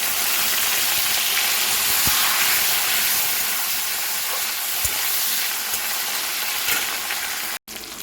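Chopped tomato hits hot tempering spices in a pan, giving a loud, steady sizzle and hiss that holds evenly throughout with a few faint clinks, then briefly cuts out near the end.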